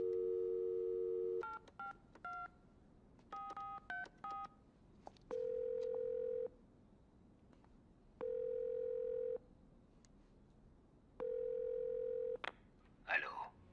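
A telephone dial tone hums, then a run of electronic touch-tone beeps as a number is keyed in, followed by repeated long ringback tones with pauses between them.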